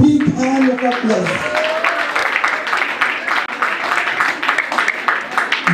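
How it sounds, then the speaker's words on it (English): Applause for a wedding couple at a 2016 celebration in Brussels, a steady wash of clapping from a crowd that runs the whole time, with voices heard briefly at the start. "Let's give them a very big hand of applause."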